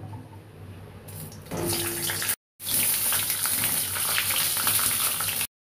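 Pointed gourd (potol) is shallow-frying in hot oil, giving a steady close hiss and sizzle that rises sharply partway through, breaks off briefly and then resumes at full strength, with no talking.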